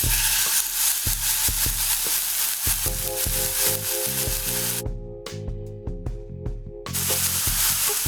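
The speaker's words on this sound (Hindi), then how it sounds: "अब हम इसके अंदर अपने चेस्ट के फिले डालेंगे हाई हीट पे रखते हुए" Chicken breast fillets sizzle loudly in a smoking-hot pan on high heat, a dense close hiss with brief clatters and a short quieter stretch before the frying swells again.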